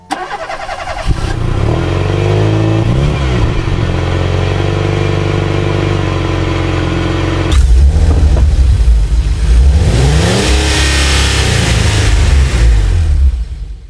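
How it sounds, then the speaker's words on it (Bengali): A cartoon motorbike's engine revs loudly and continuously, with a steady drone that surges higher partway through as the bike sets off through a forest, accompanied by faint music. "আমি এখন এই বাইক নিয়ে পুরো বন ঘুরে ঘুরে দেখবো"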